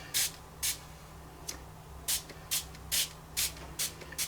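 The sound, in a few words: spraying water onto Brusho paint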